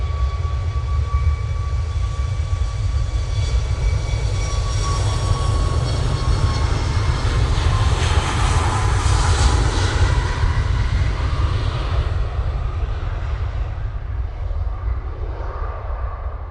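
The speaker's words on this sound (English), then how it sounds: "Ryanair 737 MAX 8 now on the roll." A Ryanair Boeing 737 MAX 8 jet rolls for takeoff bound for Paris, its engines producing a steady, loud low roar with a whining tone above it. The roar holds constant throughout and then eases slightly near the end.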